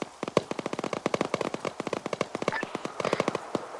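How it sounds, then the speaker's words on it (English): Rapid, steady bursts of machine gun fire lay down suppressing fire during a military field training exercise, with dozens of sharp, evenly spaced shots at close range continuing without pause. "all 4 elements are providing suppressing fire and flanking maneuver into the city of Fernan for your assault"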